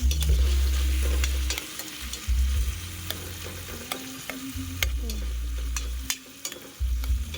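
Clams (halaan) sautéing in a pan for sinigang, a steady close sizzle with scraping stirring strokes and clinks of shells, the low rumble rising and dropping in bursts.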